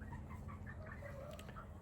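Indoor chickens kept near turkeys cluck and murmur in soft, scattered calls over a low steady hum, quiet and somewhat distant, with no talking.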